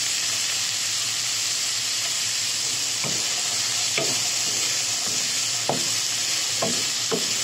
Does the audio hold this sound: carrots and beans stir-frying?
yes